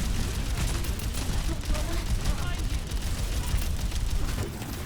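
D.Va firing at Sigma in Overwatch 2, a dense continuous barrage of rapid gunfire and mechanical clatter with game effects, steady and loud throughout with no pauses.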